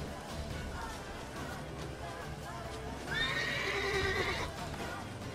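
A horse in The Witcher 3 gives a loud, close whinny partway through, with hoof clip-clops and game sounds running under it.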